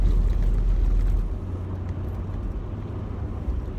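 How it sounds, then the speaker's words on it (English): Steady low rumble and vibration inside a truck while driving at speed, a heavy droning hum with road noise, louder at first then easing slightly, no talk. "So my truck has been vibrating like crazy"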